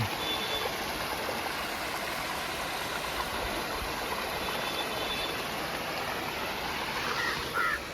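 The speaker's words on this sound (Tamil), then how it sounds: "இங்கே பார்த்தீங்களா தண்ணி வருது மழை தண்ணி" Continuous rushing rainwater near Kiliyur Falls, Yercaud, a steady broadband wash of flowing runoff, close and loud with no pauses.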